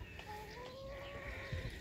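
Hens in a garden run give soft, drawn-out clucking calls that rise and fall, a couple of murmuring vocalizations over quiet outdoor background, faint and fairly close, with no talking.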